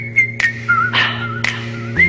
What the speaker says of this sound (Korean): 노래를 플레이하기 무섭게 들리는 휘파람 소리